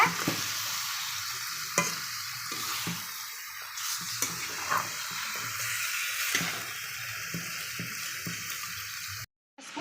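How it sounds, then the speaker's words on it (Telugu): Chicken cooks in a pan with a dense, continuous sizzle, punctuated by repeated scrapes and clicks of stirring; close and steady for several seconds before a sudden brief dropout. "చికెన్ అయితే బాగా మగ్గనిద్దాం అనమాట"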